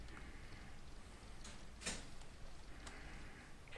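Car door on a vehicle in the Pleasant Valley driving game opening with a short mechanical clack, then a window rolling down, faint and mechanical over steady low background noise.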